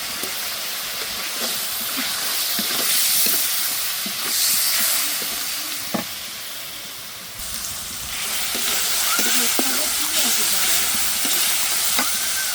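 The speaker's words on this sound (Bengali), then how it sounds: "পেঁয়াজ ভাজা হয়ে গেছে" Blended onion paste frying in hot oil gives a steady, loud sizzle and hiss throughout, with scattered scrapes and clicks of stirring and no voices.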